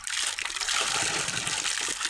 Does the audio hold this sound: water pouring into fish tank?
yes